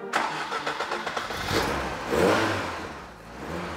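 A Mark III car engine cranks and fires up, then runs with a few revs rising and falling before settling into a steady idle, heard fairly close with no voices.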